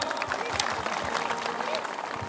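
Applause rises from an audience at a folk stage performance during the Sujandhar Mela, a dense, steady patter of many hands that fills the whole moment without pause.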